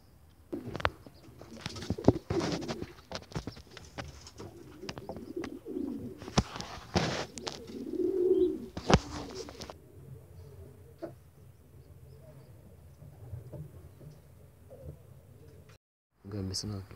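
Pigeons coo in a loft, soft throaty calls repeating close by while someone speaks over them in between.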